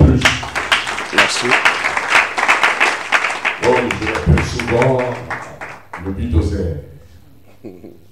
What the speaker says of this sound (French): Acclamons encore une fois de plus.